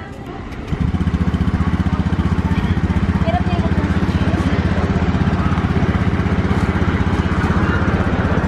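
A motorcycle engine starts up and runs at a steady, rhythmic putter close by, continuing unbroken to the end of the clip.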